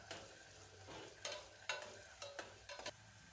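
Thinly sliced onions fry in ghee, with a soft steady sizzle broken by several sharp stirring scrapes at an uneven rhythm, close by and with no talking.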